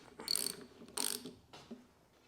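Tightening a nut on a 1976 Honda CT70: two quick bursts of ratcheting clicks, the second followed by a softer third pass, close up with no talking.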